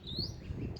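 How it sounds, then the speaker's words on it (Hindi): Birds chirping in trees, a brief, faint high tweet over low rumbling background noise, with no voices. "चिड़िया चहक रही हैं पेड़ों में"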